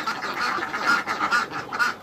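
Molting ducks quacking close by in a rapid run of nasal calls, several overlapping quacks repeating steadily with no talking.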